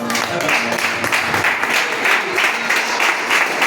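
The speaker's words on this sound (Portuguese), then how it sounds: "Aplauda o Senhor." A church congregation claps together in steady, dense applause that fills the room evenly for several seconds, loud and close, with no speech over it.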